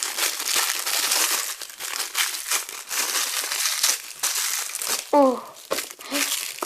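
A plastic package of egg jelly is torn open up close, with continuous crinkling and crackling rustles that swell and dip. A short vocal sound briefly joins in near the end.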